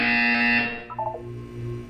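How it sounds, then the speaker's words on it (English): A loud, steady electronic buzzer tone in Portal 2 sounds for about half a second, then cuts off, leaving a few short blips and a low hum. "You will hear a buzzer."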